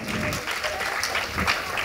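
A literary festival audience applauds during a competition round, giving a short, dense burst of clapping with a few voices mixed in.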